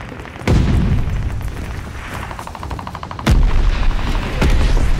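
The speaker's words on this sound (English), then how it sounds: "They're sending mortar shells!" Mortar shells exploding in Call of Duty Vanguard during a Hardpoint match on Sub Pens, with two heavy booming blasts a few seconds apart amid scattered gunfire, loud and close.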